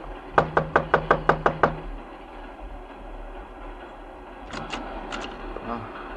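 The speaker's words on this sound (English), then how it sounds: "Just knock on the door." A rapid series of eight sharp knocks on a door, close and distinct, followed by quieter room noise and a few fainter taps later.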